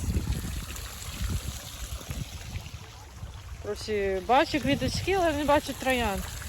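Water flowing in a park garden makes a soft, steady trickle and babble in the background, and partway through a nearby voice starts talking over it.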